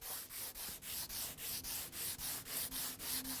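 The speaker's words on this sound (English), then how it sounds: "Now I'm doing all the sanding on this boat by hand, all of it." Hand sanding of primer on a wooden skiff's hull, a close, quiet scratchy rasp repeated in an even rhythm of about four strokes per second with no machine noise.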